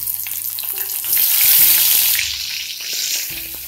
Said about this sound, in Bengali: ডিমগুলো আমাকে এভাবে ভেজে নিতে হবে মিডিয়াম টু লো ফ্লেমে